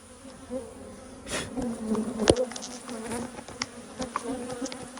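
Honey bees buzzing around an open hive box during a beekeeping split and brood inspection, a close, steady droning hum with individual bees passing loudly near the listener, plus a few faint knocks.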